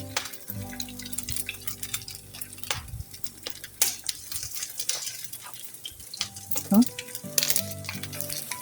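Potato and egg pieces fry in a hot frying pan, a steady sizzle running under background music with occasional clinks of a utensil against the pan.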